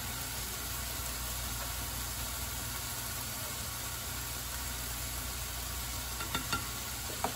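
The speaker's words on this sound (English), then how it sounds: "It still sounds like it's super hot, but I'm gonna add that garlic" Garlic and Italian seasoning sizzling in a very hot pan, a steady broadband hiss that holds for the whole stretch, with a few faint clicks near the end.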